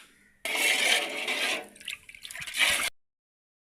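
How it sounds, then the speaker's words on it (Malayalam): Water pours into a pot of rice for chicken biryani, a splashing gush lasting about two seconds with a brief pause and a second surge before it stops abruptly into silence. "ഒരു പാത്രം വെള്ളം കൂടെ നമ്മൾ ഒഴിക്കുകയാണ്"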